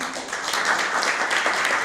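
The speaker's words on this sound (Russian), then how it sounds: "Давайте ее встретим овациями" An audience applauds to welcome a folk singer, a People's Artist, back onto the stage at a composer's memorial concert; dense steady clapping fills the hall evenly throughout, with no voices over it.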